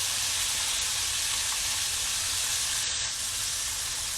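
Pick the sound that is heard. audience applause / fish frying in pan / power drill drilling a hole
fish frying in pan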